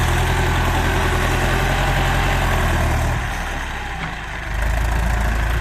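A Ford 7740 tractor engine idles with a loud, steady low rumble and a slight dip in pitch and level partway through, heard alone with no voices.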